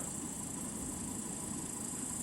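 Steady rushing wind noise during a stormy spell under a swirling cloud, a continuous broadband hiss with low rumble and no breaks, fairly faint and constant throughout.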